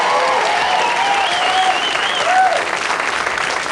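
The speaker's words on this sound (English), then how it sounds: "Give her a round of applause" Studio audience applauding steadily on a 1987 Blockbusters quiz show in Britain, a dense sustained roar of clapping that starts near full strength and fades slightly toward the end.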